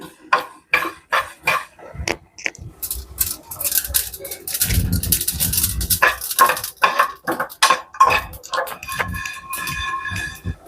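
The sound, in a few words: mustard seeds popping in a dry pan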